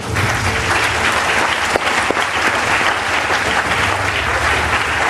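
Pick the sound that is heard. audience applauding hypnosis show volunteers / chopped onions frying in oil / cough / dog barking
audience applauding hypnosis show volunteers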